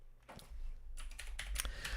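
Loud clacking of a computer keyboard being typed on close to the microphone, a quick irregular burst of keystrokes after a brief quiet start.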